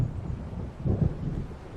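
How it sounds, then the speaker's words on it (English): Low rumbling thunder from an approaching storm in the video game Alan Wake, near the coast with waves, a dull swelling roll that peaks briefly then fades under wind noise. "It seems there's a storm coming."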